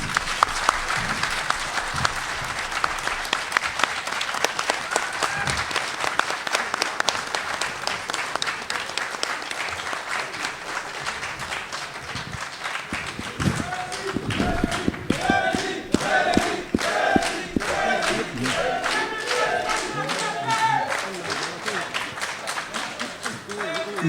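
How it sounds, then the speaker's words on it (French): Sustained applause from a conference audience greeting a political party president at a New York event, steady and dense clapping filling the room with scattered thumps and crowd noise, growing livelier and more rhythmic toward the end. "Vous applaudissez pour le président, s'il vous plaît."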